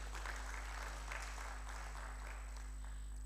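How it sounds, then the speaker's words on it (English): Applause at a graduate research policy forum plenary session, faint and distant clapping buried under a heavy steady electrical hum and buzz, sounding soft and muffled throughout. "It deserves a round of applause."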